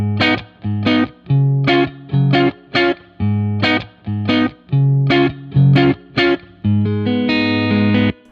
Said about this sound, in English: I'm just going to go ahead and use like the twang reverb, just modeled after a Fender, and we'll go ahead and kind of drive this treble down.